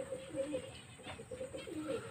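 Domestic pigeons coo repeatedly while eating freshly scattered feed, with soft layered coos from several birds close by and a low background rustle.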